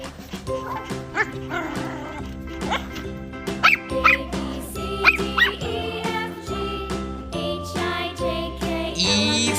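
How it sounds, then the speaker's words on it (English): A dog barks and yips several times in a bright, jingly children's phonics song, with the bow-wows set inside steady music and light chimes. "D for dog."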